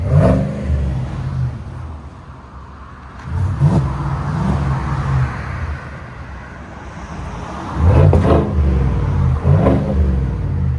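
A 2026 Chevy Silverado Trail Boss 5.3L V8 with a Borla Touring cat-back exhaust rumbles deeply and revs up several times, rising to throaty bursts before settling back to a low burble.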